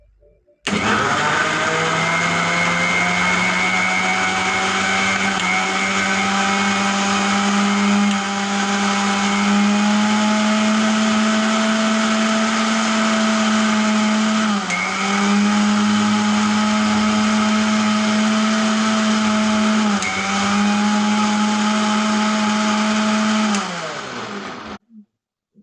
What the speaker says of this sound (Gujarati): હવે આપણે આને મિક્સરમાં કાઢી લઈએ.